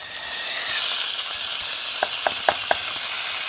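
Rice poured into vermicelli frying in a pan gives a steady sizzle, followed by a few light clinks of a spoon stirring.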